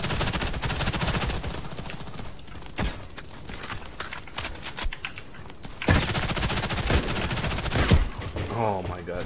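Rapid automatic gunfire from an FN P90 submachine gun in the online shooter Contract Wars, loud bursts filling most of the stretch with brief gaps, layered with game effects and clatter.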